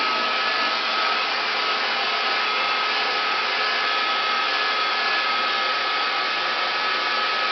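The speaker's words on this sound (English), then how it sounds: "So you see how I have a smaller hair dryer and I can more easily control what section of the hair I'm applying heat to." A small hair dryer blows steadily on hair, a loud and even whoosh with no breaks from start to finish and no talking.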